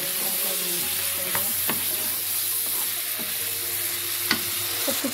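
Eggplant and potato bhaji frying steadily in a pan, a constant sizzle with scattered stirring scrapes and clacks throughout, close and continuous with no talking.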